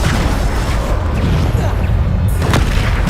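In Hogwarts Legacy, the Bombarda blasting spell detonates. The whole stretch is dense, loud and booming, with rumbling crashes and a sharper burst near the end.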